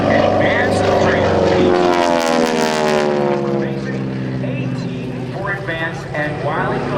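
A T-6 Texan advanced trainer dives during an air show at about 200 miles per hour, its loud propeller and engine roar rising and sweeping in pitch before easing off, with an announcer talking over it throughout.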